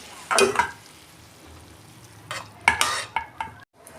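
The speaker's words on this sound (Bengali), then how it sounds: "সবজিগুলো ঢেলে নিচ্ছি।" Vegetables for a simple vegetarian Bengali dish are tipped into a hot pan and stirred, giving bursts of clattering scrapes and sizzle over a low hiss, close by, with brief pauses between strokes.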